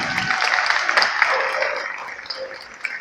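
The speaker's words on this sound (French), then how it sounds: "Je crois qu'on peut l'applaudir quand même." Applause from an outdoor audience at a dog demonstration at a regional fair, a steady fairly faint patter of many hands over roughly three seconds, gradually thinning toward the end.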